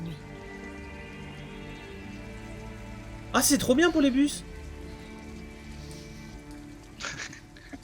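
Steady rain falls as a soft, continuous patter under a short burst of conversation in a video game scene, with faint background hum.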